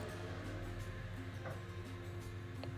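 A sewing machine stitches fabric for a washable cloth pad, giving a steady, faint mechanical hum with a continuous whirr and no pauses.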